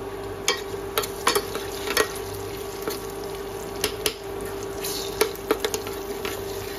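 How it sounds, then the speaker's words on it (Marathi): Dry fruits and banana slices fry gently in ghee in a pan for sheera, a soft steady sizzle with light scraping and stirring taps of a spoon at irregular intervals, close and fairly quiet. "केळीसोबतच आपल्याला त्याचे ड्रायफ्रूट्स फ्राय करून घ्यायचे छान तुपावरती।"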